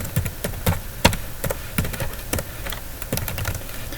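Irregular bursts of keystrokes clatter on a computer keyboard as commands are entered in a terminal, close and fairly crisp, with uneven pauses between taps.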